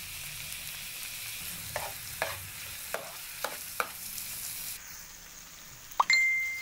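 Chopped tomatoes stir-fried in a hot pan for squid adobo, with a steady sizzle broken by several sharp scrapes and knocks of the spatula, then a brief clink near the end.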